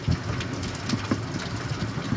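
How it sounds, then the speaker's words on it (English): Steady rain falling, a dense hiss of drops striking surfaces with scattered louder pattering and low rumbles, continuous and fairly close, with no voices. "and now it starts to rain."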